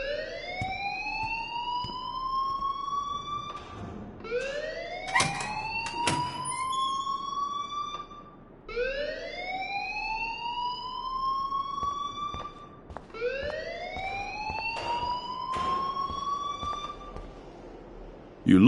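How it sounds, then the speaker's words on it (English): An electronic alarm in the game Life is Strange rings in repeated rising wails, each sweep lasting about four seconds, loud and steady with faint clatter underneath and no talking. "please turn off that alarm since that's your job"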